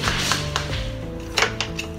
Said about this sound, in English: we need to give a knife and then go all the way around the cake